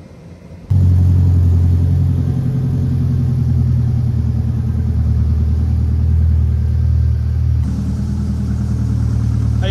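A turbocharged 3RZ engine runs hard on a dyno, a loud, steady, close-up roar with a heavy low rumble that holds for several seconds and eases slightly near the end, with no talking.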